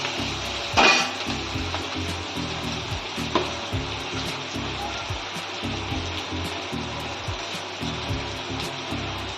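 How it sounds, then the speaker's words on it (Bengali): Two medium onions, salted, fry in a pan with a continuous close sizzle and a louder crackling burst early on. A faint rhythmic thumping runs underneath. "এবার পেঁয়াজটা লাল করে ভাজা হোক।"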